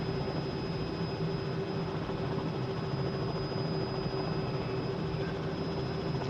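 A helicopter in a flight simulator game drones steadily on approach, a constant loud engine and rotor hum with a faint high whine, unchanging throughout.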